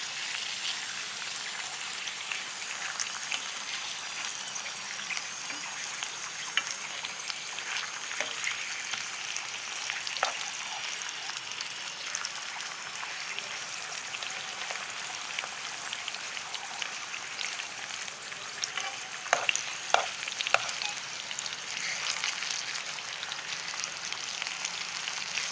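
Potato omelette sizzling steadily in a frying pan for a Hindi breakfast recipe, a constant bright crackle with a few louder pops near the end and no talking.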